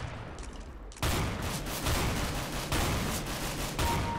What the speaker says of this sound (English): Wrecking everybody with the shotgun right now.